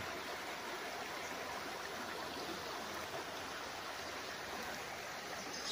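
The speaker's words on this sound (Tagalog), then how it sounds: "malinaw po ang tubig. At tuloy-tuloy po ang agos niyan." Continuous rushing of a clear creek's water on a farm lot in Liliw, Laguna, a steady broad hiss and babble flowing without pause.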